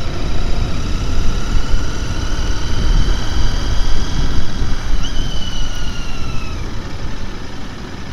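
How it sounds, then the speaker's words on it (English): A 2023 Royal Enfield Continental GT650 motorcycle engine while riding: a smooth, continuous engine drone with rising tonal whine, mixed with strong wind rush across the microphone, no talk. "Engine's really smooth."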